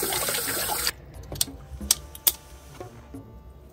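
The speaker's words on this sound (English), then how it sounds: "Let's wash up." A kitchen tap runs strongly for the first second and then shuts off, leaving scattered clinks and light knocks of washing up at close range.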